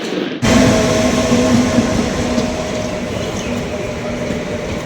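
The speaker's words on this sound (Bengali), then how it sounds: "কলকাতা থেকে এখন একটা ট্রেন চলে আসলো বন্ধুরা" A train from Kolkata pulling into Berhampore station, a loud close rumble of rolling wagons with a steady tonal hum, starting suddenly after a brief moment.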